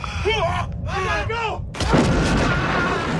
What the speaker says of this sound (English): Now comes bombardment by artillery.